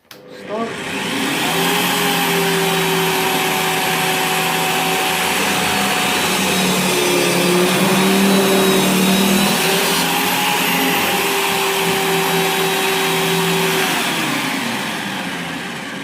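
A Parkside PTBMOD 710 A1 bench pillar drill with electronic speed control bores into metal, a loud, close, steady motor whine with grinding overtones that shift slightly in pitch as the bit cuts, running continuously.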